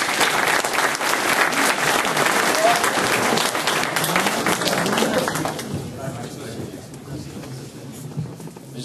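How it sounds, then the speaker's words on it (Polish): Sustained applause from an audience at a commemorative academy event in Poland, dense and loud at first, then thinning and fading over the last few seconds. "Powitajmy ich brawami."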